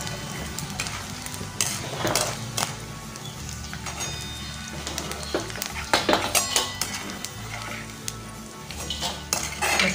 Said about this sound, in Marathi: तसाच आपल्याला दुसरा सुद्धा तळून घ्यायचा जो उरला आहे बाकीचा तो